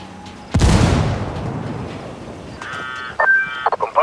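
A frag grenade blast in Ghost Recon Wildlands lands as one loud, broad boom that trails off slowly. Electronic beeping tones follow near the end.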